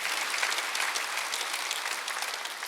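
A church congregation bursts into sustained applause during a Sunday worship service, a dense crackle of many hands clapping throughout at a fairly even level.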